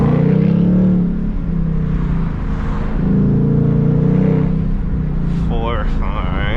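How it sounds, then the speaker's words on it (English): A Ford Mustang GT engine drones and revs under a downshift into second gear, a steady low rumble rising and falling in pitch, heard from inside the car, with a brief rising whine near the end. "I love downshift in the second."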